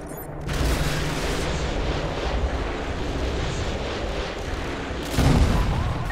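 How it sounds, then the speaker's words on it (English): A Predator missile strike in Call of Duty: Modern Warfare 2 erupts as a dense, sustained rumbling explosion with battle noise, loud and continuous, swelling again near the end, with no talk. "Use the remote control Predator missiles!"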